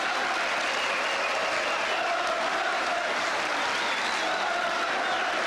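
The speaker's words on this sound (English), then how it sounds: "And listen now to the applause as Charlton leaves league football." Football crowd at a First Division match applauding as Bobby Charlton leaves league football, a loud, continuous roar of clapping across a packed stadium, with crowd noise filling the whole stretch.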